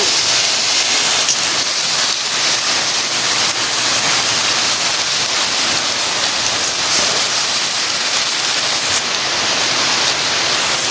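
Spice paste hitting hot oil with bay leaf and whole cumin in a home kitchen, producing a loud, continuous hissing sizzle that holds steady from start to finish with no voices.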